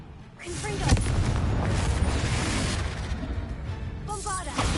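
Confringo spell explosion in Hogwarts Legacy, a loud booming blast with a whooshing burst that sustains for several seconds, with a voice calling out over it.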